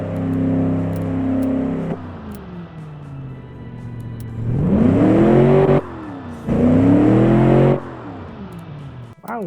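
A car engine revs in several bursts: a steady idle, then two sharp climbs to a loud roar, each cut off abruptly, with no talk over it.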